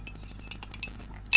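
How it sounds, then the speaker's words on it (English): A teaspoon stirring hot chocolate in a mug gives a few faint, light clinks, then ends on a sharper, brighter ring of metal against the mug. "If you can hear like a teaspoon in a mug, that's because I've got a hot chocolate"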